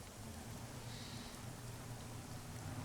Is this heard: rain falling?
yes